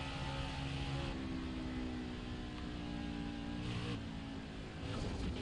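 A NASCAR stock car engine in the racing game NASCAR Heat 5 at Darlington drones loudly and continuously, its pitch rising and falling as the throttle is worked, with no voices over it.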